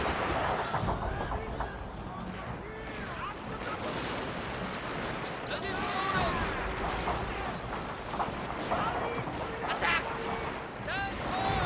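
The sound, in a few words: gunfire of troops being shot in Shogun 2 Total War video game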